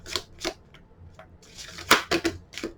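Stiff, thick cardstock oracle cards are shuffled and snapped together in a series of loud, crisp riffling bursts with short pauses between, close to the listener.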